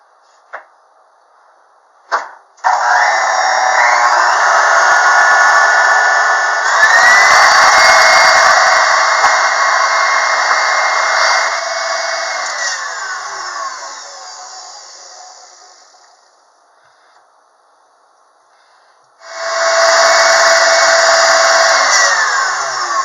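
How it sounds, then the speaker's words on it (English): Electric mixer whipping butter into a cooked flour (ermine) frosting with chocolate and coffee: a loud, steady motor whir that runs continuously, fades out, then starts up again near the end. "I'm going to whip this, about 15 to 30 seconds after each addition of butter"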